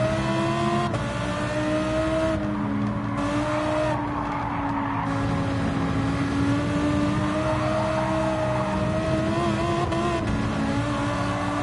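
A race car engine in Gran Turismo 7 drones loud and close throughout, pitch rising and falling as the throttle opens and eases, with brief tire squeal mixed in.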